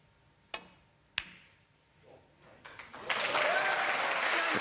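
Snooker shot clicks in a quiet UK Championship arena, two sharp ball knocks followed by scattered claps that swell into sustained audience applause.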